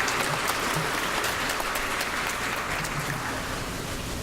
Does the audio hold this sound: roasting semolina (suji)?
no